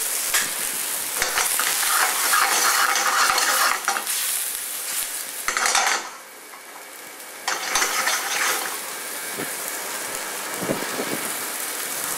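Water hits a hot pan of mushrooms, bursting into loud hissing sizzles while a utensil scrapes and stirs, with the sizzle dropping away briefly and flaring up again in waves.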